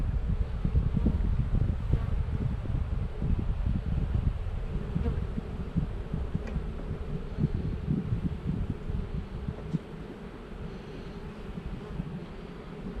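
A dense, continuous low buzz of many honey bees swarming around their original hive, close and steady, gradually easing slightly in loudness, with faint wind in the background and no voices.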